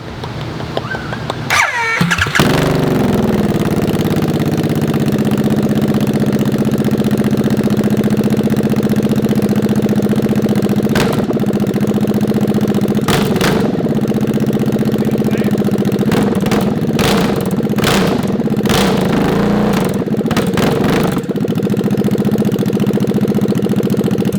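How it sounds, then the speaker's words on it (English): A motorcycle engine with no exhaust fitted starts and idles roughly and loudly, a steady bubbling rumble with occasional sharp revs and pops throughout. "whenever you start a bike without exhaust on it, where it's like sounds like bubbles"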